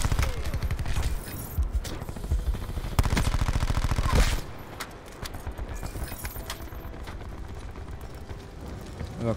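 Rapid gunfire from a Call of Duty Black Ops 4 match, dense bursts of automatic shots that rattle loudly for several seconds and then continue in lighter, scattered volleys with game effects, with no talking.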